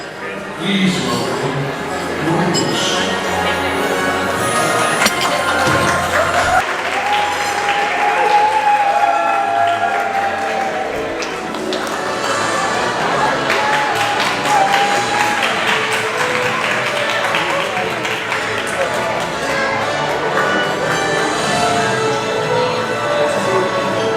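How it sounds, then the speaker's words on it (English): Diners in a themed Disney restaurant applaud and cheer as the Beast appears, crowd clapping layered over music and a busy, chattering room, with nearby people talking throughout. "He's just got mad applause"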